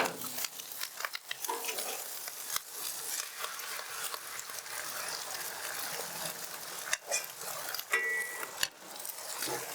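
Oil sizzles on a Blackstone flattop griddle while pork fried rice is being made, a dense, steady hiss that runs throughout, broken by a few faint scraping clicks.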